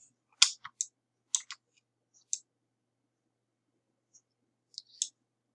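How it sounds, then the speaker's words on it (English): Computer mouse clicking in CAD software, a handful of sharp, close, isolated clicks in small clusters separated by silence. "And I'm going to click OK."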